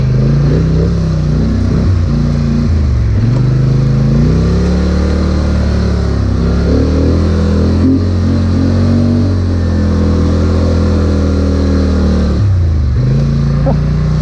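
A Polaris 850XP off-road vehicle's engine revs hard and loud close by, holding a droning growl with pitch rising and dipping as the throttle changes, briefly easing around a few points before pulling on again, no talking.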